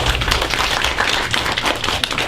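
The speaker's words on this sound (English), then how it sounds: "Give Dilraj a round of applause" Audience applause for a student speaker at a school debate on self-driving cars, a short steady burst of clapping with no talk over it.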